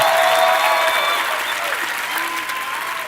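Audience applause at a Gary Vaynerchuk talk, a dense steady wash of many hands clapping that stays loud for about three seconds with a faint murmur underneath.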